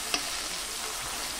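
Spice paste fried in hot oil and stirred in a pan, a steady close sizzle with one sharp utensil clink at the start and soft scraping beneath.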